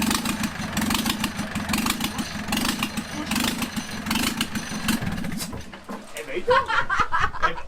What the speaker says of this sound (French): le moteur démarre pour de vrai. Et il tourne vraiment bien.